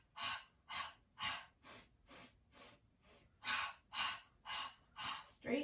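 Pilates exercise breathing: a steady series of about twelve short, sharp sniffing breaths and puffs, evenly spaced, close and fairly soft, with a final louder exhale at the end.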